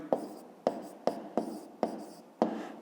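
Close, scratchy writing on paper during a fifth-grade maths exercise, six short strokes in a quick, uneven rhythm, each with a sharp onset and a fading scrape, with no voices.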